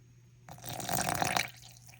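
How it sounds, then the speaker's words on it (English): About 90 grams of water is poured into a bowl of casting powder mix, giving a short burst of splashing liquid that swells and then stops after about a second, heard close with no talking. "now I'm going to add 90 grams of water"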